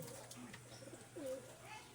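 A pigeon gives a faint, brief peep among a pigeon coop's soft low cooing and background noise, heard close but quiet.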